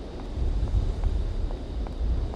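Wind blows steadily outdoors at night in the Syberia video game, a continuous low rushing roar that fills the scene on its own, without speech.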